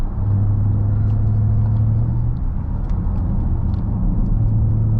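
A Jaguar F-Pace SVR V8 SUV drives along twisty roads, its engine holding a steady low droning hum under constant road and wind rumble, heard from inside the cabin.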